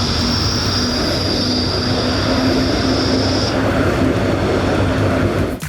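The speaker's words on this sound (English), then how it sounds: "In downtown Zurich, people ride trams that make absolutely next to no noise." A quiet electric tram in downtown Zurich passes by. A broad, steady rolling rush of wheels and street noise fills the whole span, with a faint high whine for the first few seconds.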